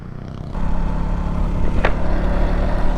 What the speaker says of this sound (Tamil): செயின் ஸ்ப்ராக்கெட் பார்த்தீங்கன்னா ரொம்ப சவுண்ட் வருது